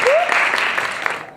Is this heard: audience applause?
yes